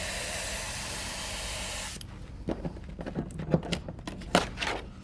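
A steady airbrush hiss sprays paint through a stencil for about two seconds, then cuts off, followed by scattered soft clicks and taps nearby.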